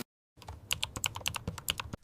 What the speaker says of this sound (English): I am typing an email.